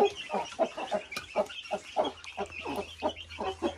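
Hens clucking in a rapid, rhythmic series of short calls on a small farm, close and clear, with no talking.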